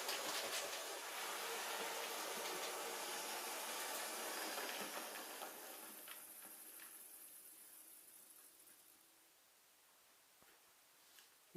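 A Hornby tender-driven model Flying Scotsman locomotive runs along track with a close, hissing rumble that gradually fades as it rolls away and comes to a stop.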